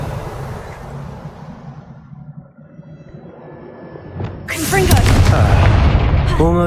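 A Confringo explosion spell cast in the video game Hogwarts Legacy, a deep booming blast that swells into a loud rumbling roar with crackling debris after a quieter, murmuring stretch.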